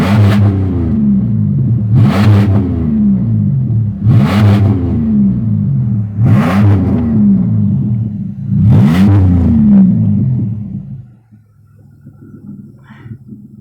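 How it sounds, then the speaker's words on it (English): A Pontiac Grand Prix on its final drive before scrapping, its engine revved hard five times in a steady rhythm, each rise and fall loud and close, then settling to a low idle. "time for the last noises of the car"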